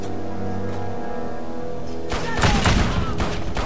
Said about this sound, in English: Wow, this gun is powerful.